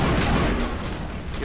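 A grenade goes off in the Mass Effect video game amid combat, a loud, dense blast and rumble filling the whole short moment with gunfire-like crackle and no talking.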